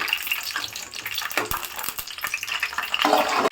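Seven or eight green chillies fry in oil for a village-style gongura flower chutney, making a loud bubbling sizzle broken by scraping, stirring knocks.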